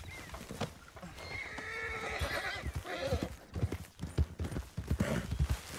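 A horse in Red Dead Redemption (RedM roleplay) neighs loudly and its hooves clatter, the whinny rising over a busy run of close hoof strikes and game noise.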